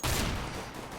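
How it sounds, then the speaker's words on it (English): A shotgun fires in the Counter-Strike: Global Offensive video game: one loud, close blast fills most of the moment and fades, then a second shot begins sharply at the end. "whenever you hear that shotgun, fall back"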